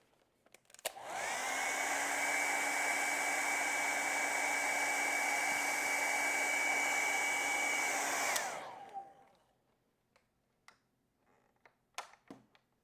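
A hair dryer blows on a watercolor painting, a loud, steady close-up whir held for about seven seconds before spinning down, followed by faint taps and handling noises.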